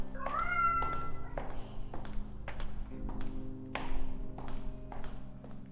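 A cat meows in a high, drawn-out call near the start, set against a steady low hum and a string of soft taps and thuds.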